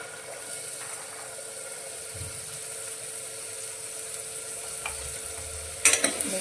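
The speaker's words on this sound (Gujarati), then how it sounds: "ચોળીને સારી રીતે મિક્સ કરીશું" Green cowpeas and tomato fry in a pan over a low gas flame with a steady, loud sizzle while a spoon stirs through them, ending in a few sharp scraping clatters.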